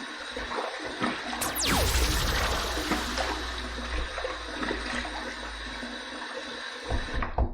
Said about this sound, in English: let's take this hot water that's been on this puck here, and let's just put that in the sink like that